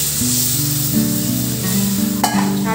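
Water poured into a pan of frying fish, a loud close sizzle that holds steady with faint bubbling tones underneath and a brief sharp spatter near the end, no voices.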